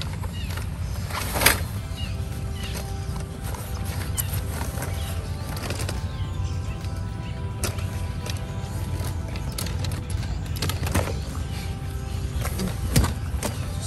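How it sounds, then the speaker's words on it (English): Metal legs and fabric of a Kamp Rite compact XL tent cot shift and creak as it unfolds, with rustling and a few sharp clacks of the frame over a steady low background, close by. "It's got a little Velcro strap holding the legs together. And we're gonna fold this baby out."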